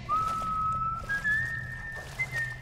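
Whistling from a character in The Last of Us: Left Behind, a steady held tone that slides upward in steps, near and distinct above a low ambient rumble.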